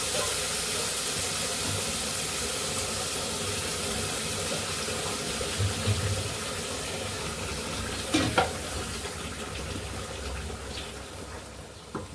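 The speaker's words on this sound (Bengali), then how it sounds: "আমি এখন গরম পানি দিয়ে দিব" Hot water poured onto fried rice in a pot on the stove, a loud continuous hiss and bubbling sizzle throughout, with a couple of brief knocks near the end.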